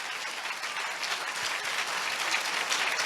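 A church audience claps steadily through a Sunday sermon about Jesus, a dense, continuous patter of many hands with no pauses or voices.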